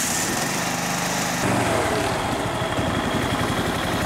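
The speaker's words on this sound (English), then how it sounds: "So it does run, idles great." A John Deere 325 lawn tractor engine idles steadily nearby, a continuous putt-putt rumble that shifts slightly in pitch partway through, running alone with no talking.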